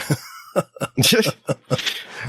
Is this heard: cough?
yes